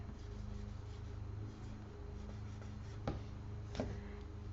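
A marker moves across a writing surface in a quiet room during a reading and spelling lesson: faint, continuous rubbing strokes with a couple of slightly sharper taps near the end, and no voices.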